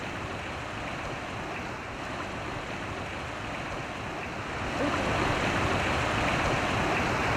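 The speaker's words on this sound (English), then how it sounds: "Also here in the forest there are little streams that join the Krimml" Water rushes steadily through a small forest stream near Krimml, Austria, a broad continuous wash that swells a little louder partway through, with no voices.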